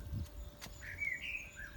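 A small bird chirps in a British garden after rain, a few thin rising and falling whistled notes at moderate distance over a soft outdoor background.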